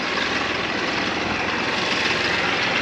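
A tractor engine running steadily while discing a food plot, a loud, continuous broadband drone close by with a low rumble and no voices.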